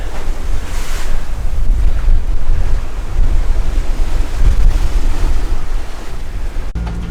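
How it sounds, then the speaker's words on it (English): Waves slosh and break against a catamaran on a windy, rainy day at sea, a continuous loud rumble of surf and water mixed with heavy wind buffeting the microphone and no talk. "Every once in a while we get a wave that breaks against the boat, but not too bad."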